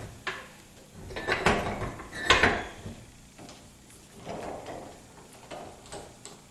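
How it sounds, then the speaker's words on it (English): A bench vise is cranked open in a garage workshop during disassembly of a 1976 Corvette trailing arm, making a run of close metallic scrapes, clicks and rattles that rise and fall over several seconds. "now I'm opening up the vise to get this in."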